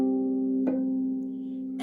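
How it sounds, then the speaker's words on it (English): Bell-like harmonics plucked on a concert harp, a pure sustained tone with a soft second pluck that rings on and slowly decays, alone and close. "We have a bell-like sound called harmonics."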